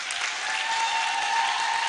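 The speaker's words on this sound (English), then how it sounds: "With a round of applause, let us welcome Reverend Sister Felicia Harry" Audience applause at a symposium, welcoming the next speaker: steady, dense clapping from a crowd that fills the whole moment at an even level, with no voices over it.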